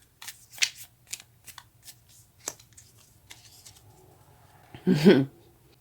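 Tarot cards are handled and shuffled in a quiet room, giving soft scattered flicks and riffles before one louder, denser burst of card shuffling near the end.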